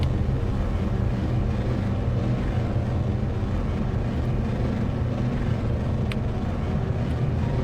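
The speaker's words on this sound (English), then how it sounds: "Ignition. And liftoff." Rocket ignition and liftoff in Kerbal Space Program, a loud, continuous low engine roar that stays steady and dense throughout, with no voices over it.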